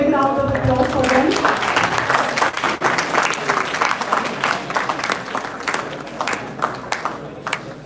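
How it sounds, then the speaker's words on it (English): Sustained audience applause honors international guests at an institute ceremony, many hands clapping steadily and loudly after a voice trails off at the start, the clapping thinning slightly toward the end. "please a big round of applause for them"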